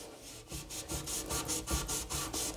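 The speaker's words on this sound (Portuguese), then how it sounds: "daí você tira o excesso de água e esfrega na onde tá preto" A wet melamine eraser sponge rubs over a dirty black spot, giving steady back-and-forth scrubbing strokes, close and fairly quiet, with a soft raspy rhythm and no talking.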